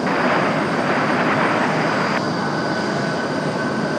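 Embraer E-175 regional jet taxiing out of an alleyway at Raleigh-Durham airport, a steady loud broadband engine roar that continues throughout with no pause, a brief higher whine dropping away partway through.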